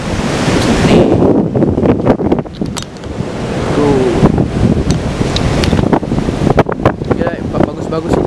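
Surf rolls in and wind buffets the microphone along a beach road at Pantai Laguna, Lampung, a loud continuous roar of waves, with someone talking briefly over it.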